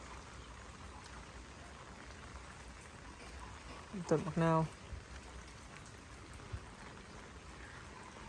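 Heavy rain falls on a garden house with a steady, dense hiss throughout, and a person speaks briefly in the middle.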